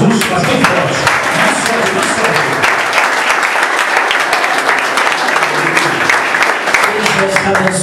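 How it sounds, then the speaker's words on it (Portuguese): A church congregation claps loudly and vigorously during an evangelical sermon, sharp overlapping handclaps in a fast, driving rhythm with some voices mixed in underneath throughout. "Com as palmas para Jesus, as bem fortes."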